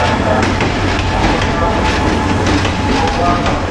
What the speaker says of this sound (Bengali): আমাদের মহুয়া কমিউটার ট্রেন এই যে ঢুকছে এয়ারপোর্ট রেলওয়ে স্টেশনের মধ্যে